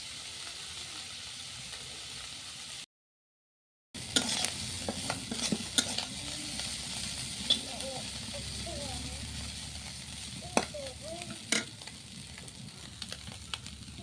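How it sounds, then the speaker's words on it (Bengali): Small chanda fish fry crisply in hot oil, a continuous sizzling hiss broken by a brief silence, then scattered spatters and stirring knocks, with faint voices in the background. "চান্দা মাছগুলা কিন্তু মশমশা করে ভাজা হয়ে গেছে"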